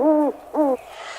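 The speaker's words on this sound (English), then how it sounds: "It's just an owl." An owl hooting twice, two clear tonal hoots in quick succession, close and alone in quiet.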